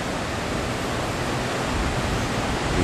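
Broad, steady roar of rushing whitewater at the National Whitewater Center, a dense continuous wash of churning rapids filling the scene at close range, with no voices.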